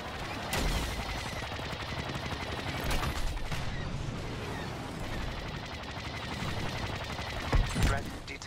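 Blaster fire crackles almost nonstop through a Star Wars Battlefront II space battle over Ryloth, dense rapid bursts with a few louder hits, while a voice speaks over the combat.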